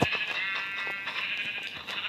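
Sheep bleating in Minecraft, a steady run of buzzy, game-style bleats lasting about two seconds, loud and close with no one talking over it.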